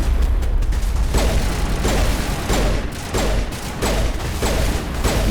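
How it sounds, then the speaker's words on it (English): A pistol fires again and again in the Mass Effect game, loud and close, in regular shots backed by mechanical clanks and ratcheting, with no talking. "Man, this pistol."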